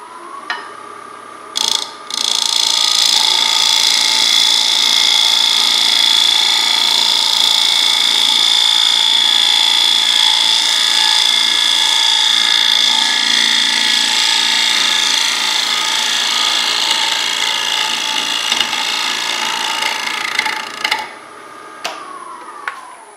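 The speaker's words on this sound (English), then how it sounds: "I'm going to use a nice shear scrape and try and get this rounded out." A shear-scrape cut on a wood lathe shaves a hard ash bowl in calabash style. The steady, hissy scraping rasp runs near-continuously for about twenty seconds against the hum of the spinning lathe.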